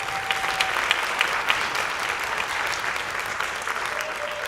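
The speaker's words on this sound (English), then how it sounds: "so give him a round of applause." A community band concert audience applauds the sound technician, steady, moderately distant clapping from many hands with a few sharper individual claps poking through the continuous wash.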